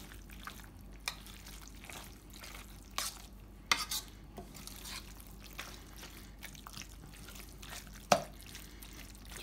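A spoon stirs ricotta and cheddar melting together in a pan. It makes soft, scattered scraping and clicking strokes over a faint, quiet sizzle, with one sharper clink near the end.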